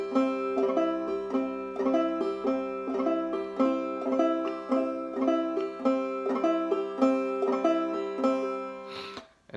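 Acoustic guitar played in a folk strum pattern of bass-note thumb strike, brush and thumb, repeating in a steady bouncing rhythm for about nine seconds, close and clear, with no talking, ending in a brief scrape.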